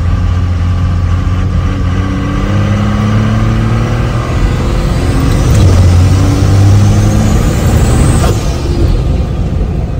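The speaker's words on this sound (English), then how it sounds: "Like this compound sounds so good" A compound-turbocharged Cummins diesel pickup truck engine runs loudly and steadily up close, its deep rumble holding through the clip while a turbo whistle rises and sweeps near the end.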